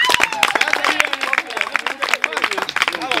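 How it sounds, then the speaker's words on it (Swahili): An audience claps for a fellow film artist at a local campaign gathering, a dense burst of close, rapid, uneven clapping with crowd noise mixed in. "Mbona mumpigie msanii mwenzenu makofi?"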